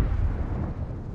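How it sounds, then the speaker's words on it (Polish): A distant explosion booms in the video game Far Cry 6 as a deep, sustained low rumble that rolls on without a sharp attack. No speech is heard. "jakiś wybuch gdzieś tam w oddali było słychać"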